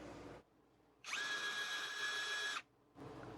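A Hyper Tough 4 in 1 installation driver, model CD0801, spins in first gear for about a second and a half: a steady, high-pitched motor whine that starts and stops abruptly, with quiet pauses on either side.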